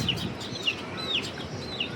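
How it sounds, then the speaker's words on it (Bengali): Baby chickens peep close by, about four thin, high, falling chirps spaced across two seconds over a faint background hum. "মুরগির বাচ্চা"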